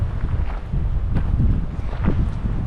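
Wind buffets the microphone at a hilltop viewpoint on Hvar, Croatia under overcast skies, producing a steady low rumble with gusty swells across the whole moment.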